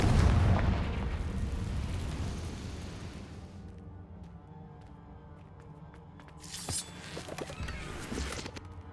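A Confringo spell blasts in the Hogwarts Legacy video game, a loud explosive burst at the start that rumbles and fades over a few seconds, followed by quieter crackling effects and a brief shout.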